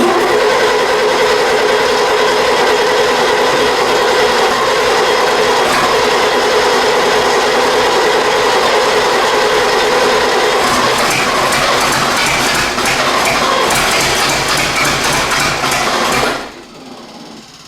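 An 80-year-old engine runs loud and steady with a rapid clattering rhythm, then cuts off abruptly near the end.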